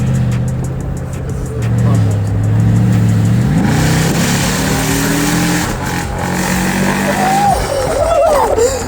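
A 555-horsepower 23-year-old Mercedes engine revs and accelerates loudly, its pitch climbing steadily through the gears, with a voice faintly audible underneath.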